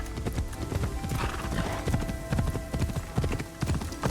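A horse's hooves clip-clop steadily in Assassin's Creed Shadows, a rapid rhythmic run of hoof strikes on a path, close and prominent with game ambience beneath.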